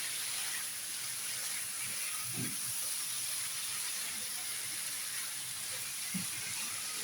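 Chicken and vegetable mixture cooking down in a pan for sandwich filling, a steady soft hiss of steam and simmering liquid with a few low knocks of stirring, fairly quiet and with no talk.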